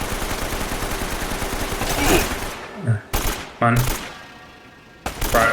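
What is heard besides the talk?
gunfire in a video game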